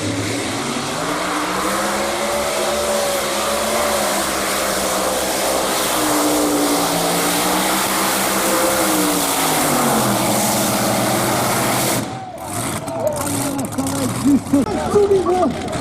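A 5000-horsepower tractor-pulling engine roars at the Bernay tractor pull. A loud, steady droning howl rises and falls, then breaks into rougher, surging bursts near the end.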